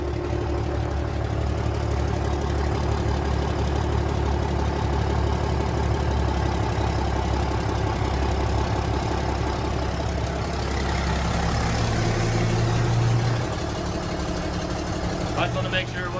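A gutted Cummins diesel drag truck idles in gear, a steady loud rumbling throb throughout with a slight shift in tone near the end.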